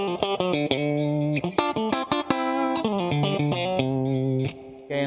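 Electric guitar through the Vibrolux channel of a Fender Super Sonic amp with Fender spring reverb, playing a fast run of clean, snappy notes and chords that ends on a held note, close and alone.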